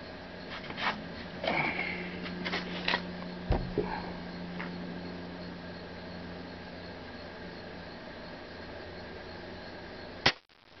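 Pellet shot from a Marauder air rifle: a sharp, close crack stands out against a quiet background, with a few softer clicks and handling noises around it and no talking.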